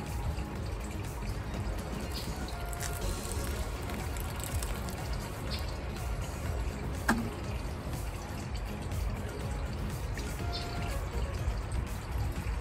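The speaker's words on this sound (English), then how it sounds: "And then we're gonna add a little more water." Water pours steadily onto soil in a continuous soft splashing stream, close by, with occasional faint drips and knocks.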